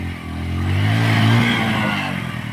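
A motorcycle comes closer on a badly broken road, its engine droning and swelling louder for a couple of seconds, with a steady low rumble and faint rattling underneath.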